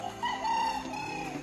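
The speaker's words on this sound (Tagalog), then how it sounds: "makikita nyo talaga lahat ng mga manok dito. Ayan, mga panabong." Fighting cocks at a rooster farm on Mt. Banahaw crow in a drawn-out call, with clucking and other fowl calling faintly around it, fairly close and with no talking.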